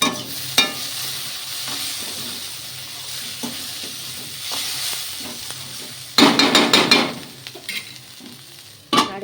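Spinach sizzling and frying in a hot wok (kadai) in a home kitchen, with a steady low hiss broken by clattering bursts of a utensil stirring and scraping, loudest for about a second past the middle.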